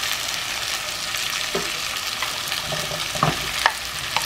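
Potato pieces frying and sizzling in a pot for a purslane and potato soup, a steady crackling hiss with a few sharper stirring clicks and pops toward the end.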